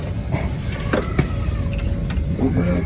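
An Isuzu Elf truck engine catches and runs in a yard with a low, steady rumble and a few sharp clicks and knocks near the start, heard close up.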